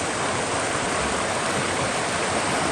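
Rushing creek water on the Ouachita Trail at a cable-assisted crossing, a loud, steady broadband roar of flowing stream close by, with no voices.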